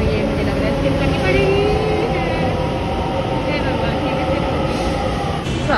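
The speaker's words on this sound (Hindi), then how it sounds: "as you all can see metro पर जा रही है" A Delhi metro train runs past close by with a dense, loud rumble and rising whine that holds steady for several seconds under faint voices.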